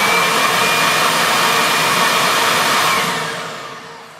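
A Kirby vacuum cleaner with an airflow meter fitted on its front runs with a loud, steady rushing whine and then begins to spin down and fade over the last second.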